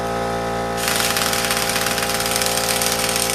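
Steady loud mechanical drone from an 8-gallon air compressor driving an air tool on bus seat bolts, jumping to a harsher, rattling hammering about a second in and holding on; close, no voices.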